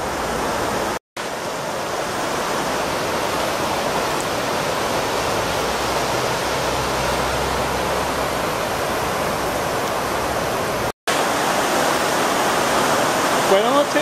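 Fast-running water of the Torondoy river rushes as a steady, loud broadband roar, with two brief dropouts interrupting the continuous flow.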